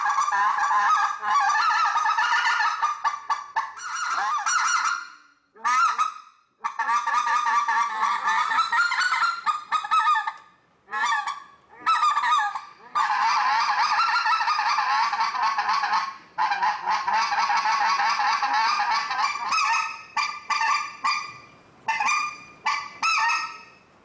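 Loud goose honks at the 2016 Goose and Duck Festival in Gaydon, Louisiana, come in long, rapid runs of calls broken by short pauses, close and unaccompanied by speech.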